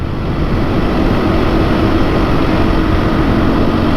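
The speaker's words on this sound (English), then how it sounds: "it definitely feels like it's revving pretty hard" A KTM motorcycle engine revs hard at about 70 mph on the highway, a loud steady droning roar mixed with heavy rushing wind noise throughout.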